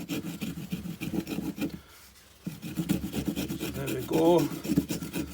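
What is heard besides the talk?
Broc knife debarking wood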